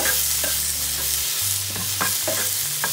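French shallots sizzle in a frying pan over moderate heat as they are stirred, giving a steady hiss broken by scraping stirs, close up and with no talking.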